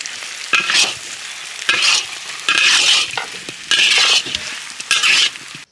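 Coriander powder is stirred into chicken fry-piece biryani cooking in a village kitchen. Loud, close rhythmic scraping strokes come in bursts over a constant frying sizzle, and no one speaks.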